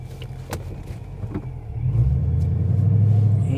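A 600-horsepower ProCharged supercharged Mustang idles with a lumpy rumble, then the engine swells into a deeper, louder, steady drone as the modified car backs out slowly, close and dominant with a few light clicks early on.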